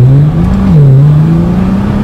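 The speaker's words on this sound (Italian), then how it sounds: "La Nissan GTR." A Nissan GT-R engine drones loudly and close, a steady deep hum that dips slightly in pitch, then climbs gradually as revs build, with no talking.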